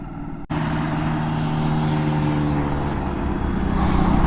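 Steady roar of vehicles speeding past on a highway, continuous loud traffic and engine noise close by with wind buffeting, after a brief sharp cut at the start.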